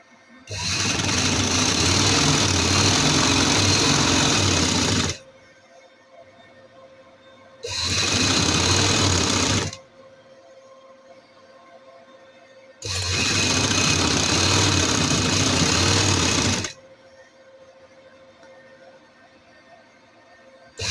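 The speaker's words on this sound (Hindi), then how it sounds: "इसके ऊपर हम सिलाई लगा देंगे।" Electric sewing machine stitching along the folded edge of trouser fabric, running loud and close in three bursts of steady whirring separated by short pauses with a faint hum between.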